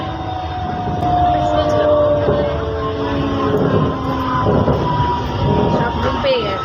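A Goghat local train runs at speed, heard from inside as a steady, loud rumble and rattle with ringing tonal whines. A faint murmur of voices sits underneath.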